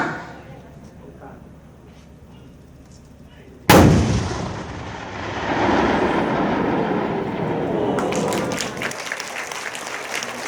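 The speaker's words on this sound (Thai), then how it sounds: "หมู่ปืนพร้อมแล้ว ยิงได้" An artillery gun fires once in a direct-fire demonstration at a target on a hillside, a sudden loud blast that rolls into a long rumbling echo. A voice talks faintly before the shot and noise comes back later.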